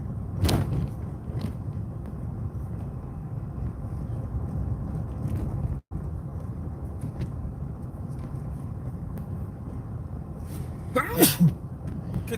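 Someone sneezes inside a moving patrol car, a sharp burst near the start and another pair of sneezes near the end, over a steady engine and road hum.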